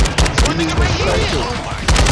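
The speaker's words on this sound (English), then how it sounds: "shooting at the man!" Rapid automatic gunfire in Call of Duty: Modern Warfare II, loud and close, bursts repeating through the whole moment with a voice briefly heard in the mix.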